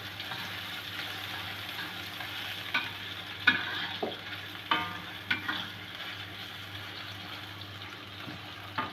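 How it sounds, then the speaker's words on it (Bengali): Chopped onion and garlic fry in hot oil in a kadai as they are stirred, with a low, steady sizzle and several sharp clicks and scrapes from the spoon against the pan. "এখন পেঁয়াজ কুচিটা হালকা নেড়ে নেব যতক্ষণ বাদামি কালার না হয়"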